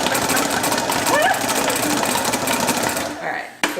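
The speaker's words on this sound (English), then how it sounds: "I have a hand mixer." A handheld electric mixer whirs steadily and loudly in a home kitchen while chocolate bourbon cake batter is made, cutting off near the end.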